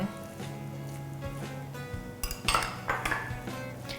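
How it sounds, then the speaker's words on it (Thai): Shrimp and ground pork are mixed in a bowl, with a utensil clinking and tapping against the dish in an irregular run of light metallic knocks that grow busier toward the end, close and fairly quiet. "ระหว่างนี้เรานำส่วนผสมของกุ้งแล้วก็หมูบดที่เราเตรียมไว้นะคะ มาผสมกัน"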